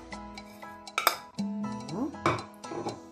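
Harissa spices being mixed in a bowl with a spoon, a few light clinks and scrapes of utensil on dish, while someone speaks over the mixing.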